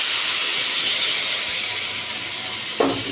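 Water tipped into a hot pan of soybean and potato curry gives a steady steamy hiss that holds throughout, then a short louder splash near the end.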